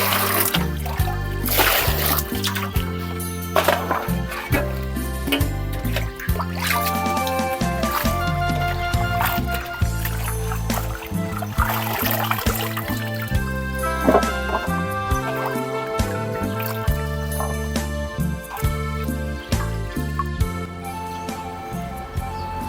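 Cabbage and carrots are rinsed under running water, a steady trickle and splash that goes on throughout, with some clinking and brief voices underneath.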